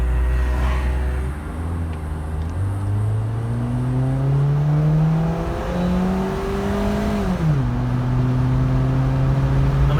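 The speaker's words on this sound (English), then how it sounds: "let's open up the sunroof and the front windows so we can hear the engine" A car engine pulls onto a road and accelerates, its loud steady drone climbing in pitch through successive gears over about ten seconds, with one clear drop in pitch at a shift, heard from inside the car with the sunroof and windows open.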